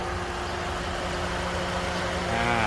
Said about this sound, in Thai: รถคันนี้ครับเนี่ยได้ยินเสียงพัดลมไฟฟ้าไหมฮะ